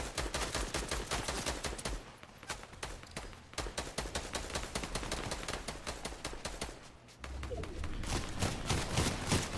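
Automatic weapon fire in a multiplayer squads shooter video game, long runs of rapid, evenly spaced shots, loud and close, with a brief lull before heavier firing resumes, no voices.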